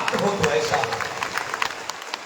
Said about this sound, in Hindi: इतनी जोर से ताली बजाइए कि गौ माता कहे कि हमारा भक्त हो